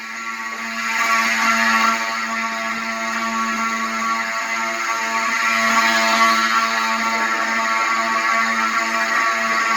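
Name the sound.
fire alarm system sounding at a fire station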